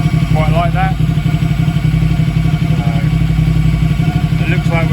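An engine idles steadily, a loud, close, rumbling pulse that holds an even rhythm throughout while a voice talks over it.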